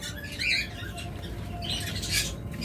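Pet birds at a bird sale with cockatiels, budgerigars and doves give two harsh squawks, the first near half a second and a louder one near the end, over a low constant background hum.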